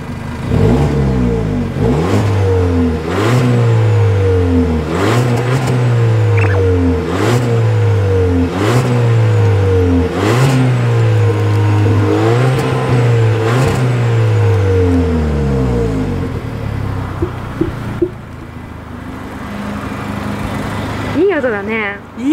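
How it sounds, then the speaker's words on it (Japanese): An Audi A1's engine revs repeatedly in a steady rhythm of rising and falling roars, loud and close, then settles to idle near the end. "このまま今エンジンついてるからフラー音聞かせてもらおうかな。"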